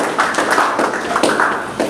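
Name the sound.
audience applause at a conference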